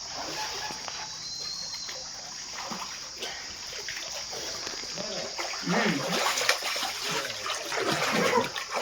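Spring water seeping up and flowing out of a centuries-old natural spring, a steady watery trickle and splash that grows louder toward the end, with faint background sounds.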